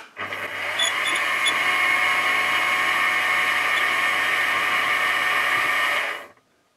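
A loud, steady high-pitched whine of a milling machine drilling an 8mm-deep hole in a DIY 3D-printer extruder part, holding constant for about six seconds before spinning down.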